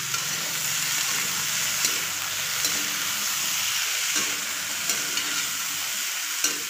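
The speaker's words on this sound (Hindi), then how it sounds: "मटर डाल करके अच्छे से इसको चलाएंगे" Peas stirred into potato and cauliflower sabzi frying in a pan: a steady close sizzle with occasional soft scrapes and clicks of the spoon, no talk.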